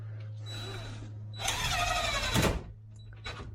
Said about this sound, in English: And just start shooting some screws around wherever you think.